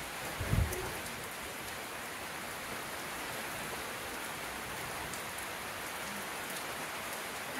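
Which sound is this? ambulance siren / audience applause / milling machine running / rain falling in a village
rain falling in a village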